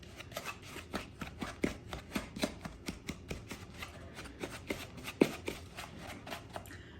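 Crumble mixture of flour, butter and sugar being rubbed together by hand for a plum crumble, giving a steady run of soft, dry crumbling and rustling taps close by, fairly quiet, with no talking.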